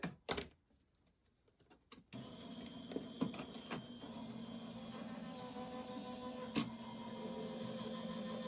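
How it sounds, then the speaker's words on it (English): An Empress die-cutting machine runs a piece of paper through for a handmade tropical Christmas card, a steady close mechanical hum and whir starting after a couple of seconds of quiet, with a few light clicks and knocks on top. "Just run this through my Empress machine real quick here."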